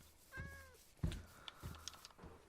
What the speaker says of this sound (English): There's a lot of cats here.